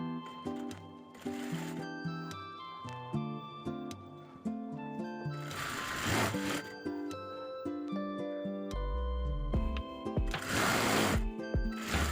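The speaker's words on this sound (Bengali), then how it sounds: "এখন আমি মোহরিটা সেলাই করে নিচ্ছি" A sewing machine stitching the hem of a pant leg, running in close, rapid mechanical bursts with short pauses between runs.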